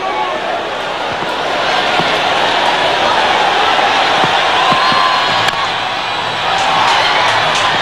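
Loud, dense roar of a cricket crowd at a West Indies versus Australia one-day international as spectators invade the field, continuous cheering and shouting with sharp bangs and claps scattered throughout.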